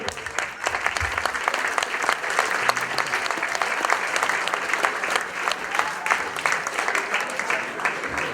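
Warm, sustained applause from a concert audience at an association concert in Euville Carrières fills the room evenly and close, with dense clapping that holds steady throughout and no pause.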